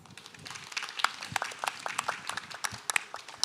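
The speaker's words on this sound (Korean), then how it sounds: "We need another big round of applause to our moderator and panelists." Audience applause at the close of a forum panel on carbon neutrality and energy transition: a short burst of scattered hand claps from a moderate crowd, fairly close and clear, with no talk over it.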